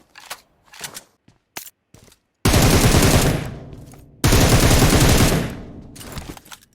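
Automatic weapon fire in the battle-royale game PUBG Mobile: a few short isolated shots, then two long loud sustained bursts of rapid gunfire, alone without talk.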